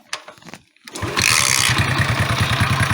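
A Delta moped engine is kick-started by hand after a few quiet mechanical clicks, catching at once and settling into a steady, close, buzzing single-cylinder idle with a fast even putter.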